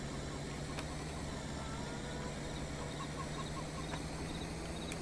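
Chickens clucking in a Farming Simulator 22 farm yard on a Michigan prairie farm, a short run of soft clucks over a constant engine drone, faint and somewhat distant, with no talk.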